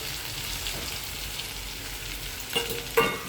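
Onions sizzle and fry in hot oil for chole, a steady crackling hiss throughout with a couple of louder spattering bursts near the end.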